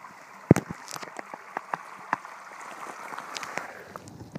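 Rain falls onto water outdoors, a soft, quiet patter with scattered sharp drops and one louder splash near the start, continuing without a break.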